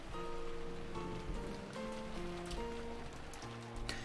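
Steady wind and rain from the visual novel Umineko, a dense continuous wash of rainfall with soft tonal music lines layered over it, no talking.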